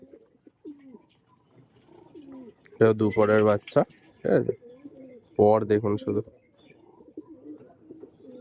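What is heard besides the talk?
active pigeons cooing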